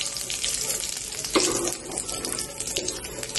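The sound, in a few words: cumin and carom seeds sizzling in hot oil in a pan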